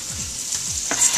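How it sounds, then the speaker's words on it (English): Onions frying in a pan make a steady close sizzling hiss, with a few scraping stirs through it and no voices. "So we're going to go ahead and throw in our onions."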